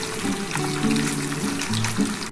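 Small khoira fish fry in a little oil, giving a constant fizzing sizzle that stays close and steady. Faint tonal hums run underneath and no one speaks.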